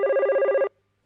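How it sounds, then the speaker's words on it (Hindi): A telephone bell rings loudly in a steady trilling burst for under a second in a Shinchan cartoon scene, then cuts off abruptly into silence. "अरे ये किसका फोन है?"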